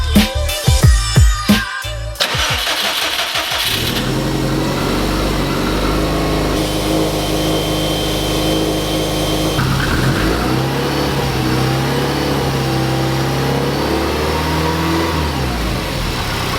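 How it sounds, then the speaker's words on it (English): A Subaru STI engine cranks and catches with a few sharp bursts, then settles into a loud, steady idle with a slight rise in pitch partway through, heard close up with no talking. "Then we're gonna fire the car up and see if the check engine light comes back."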